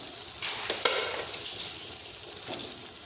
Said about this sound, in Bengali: এখন আমি দিয়ে দেবো ভেজে রাখা আলুগুলো।